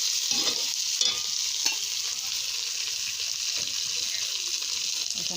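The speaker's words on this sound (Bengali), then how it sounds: "এবার এখানে আলুটা দিয়ে দেবো, এটাকে ভালো করে ভেজে নিব।" Boiled potatoes and a green chili fry in a pan for a fish curry, giving a steady close sizzle with soft stirring scrapes and no talk.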